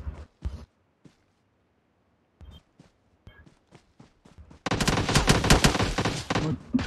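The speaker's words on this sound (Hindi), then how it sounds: "किधर से मार रहा है वो?" Bursts of automatic gunfire in PUBG Mobile, a few scattered shots and footsteps at first, then a loud sustained volley of rapid fire that runs to the end.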